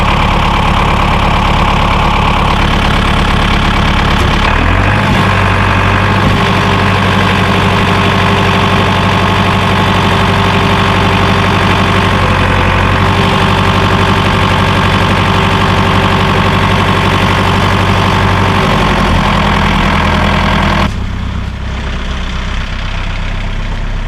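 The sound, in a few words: tractor engine idling under load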